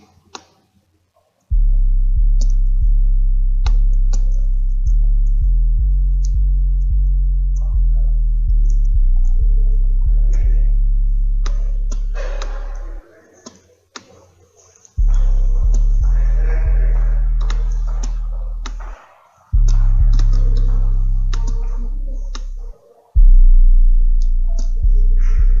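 Booming 808 kick notes programmed in FL Studio for a beat, sustained deep bass hits in a steady pattern with brief gaps, loud and alone with no voices.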